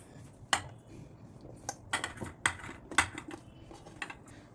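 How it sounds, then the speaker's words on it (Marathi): Chopped ingredients for a mackerel fish curry masala drop into a steel mixer jar, making several sharp clinks and clatters at irregular intervals against quiet background, with no speech. "आता ह्या सगळ्या ज्या वस्तू आहेत ह्या आपण मिक्सरच्या भांड्यात टाकूया।"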